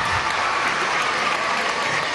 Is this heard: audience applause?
yes